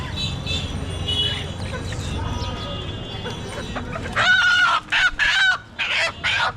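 Live country chickens cluck and a rooster squawks at a village hat market in Sirajganj, loud and close in the final seconds, after people bargain over the birds amid a busy market hubbub.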